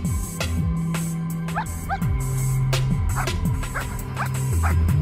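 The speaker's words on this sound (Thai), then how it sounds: "ตรงนี้มันเป็นสุนัขที่ดุทั้งนั้น" Military dogs at an army dog-training school in Pak Chong, Nakhon Ratchasima, bark repeatedly and loudly, with yips and whimpers mixed in among several animals.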